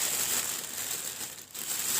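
A plastic bag holding black dates crinkles steadily as it is packed for freezer storage, a close, continuous papery rustle with a brief dip midway and no talking.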